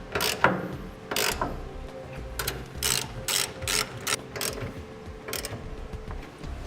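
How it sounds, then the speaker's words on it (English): A hand ratchet tightens the carriage bolts on a B and W fifth wheel trailer hitch being installed in a 2010 Chevrolet Silverado, giving short bursts of clicking strokes in an irregular rhythm, close and moderately loud with no talking. "Now we'll get the 3 carriage bolts tightened down appropriately."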